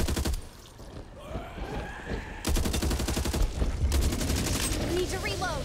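Gunfire in the Back 4 Blood video game crackles in rapid bursts, a short volley, a pause, then longer sustained automatic fire, with voices talking over the shooting.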